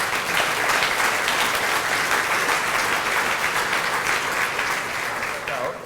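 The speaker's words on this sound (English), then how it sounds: "give a warm round of applause to these folks" Warm audience applause at a Junior Achievement breakfast in Walla Walla, a broad steady wash of many hands clapping, loud and sustained before easing off near the end.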